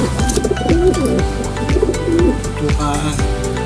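Several pigeons coo close by in repeated throaty rolling phrases, with other faint bird calls and a low voice in the background.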